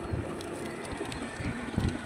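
High-flyer giribaz pigeons in a Kolkata loft coo softly. A couple of low, muffled coos rise at the start and near the end over steady background hiss.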